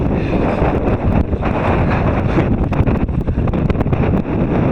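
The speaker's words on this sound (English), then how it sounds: "Certainly not calm winds today." Strong wind buffets the microphone at South Dade Marina in Florida, a loud constant roar with gusty rumbling surges and faint water sounds beneath, no pauses.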